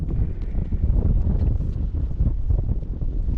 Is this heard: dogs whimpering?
no